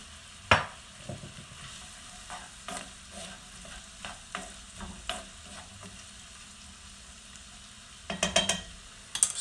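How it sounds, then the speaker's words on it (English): Onion and celery with salt sauté in olive oil in a pan over medium heat. A soft, steady sizzle runs throughout, broken by occasional stirring scrapes and a louder clatter near the end. "In saute pan, add onion, celery, 3 tablespoons of olive oil, salt, saute over medium heat."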